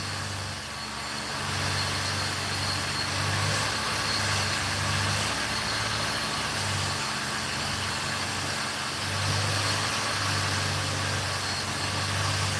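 A vehicle engine with a turbo 350 transmission runs steadily at idle for the whole stretch, a continuous low hum with a slight pulsing rhythm and no talk over it.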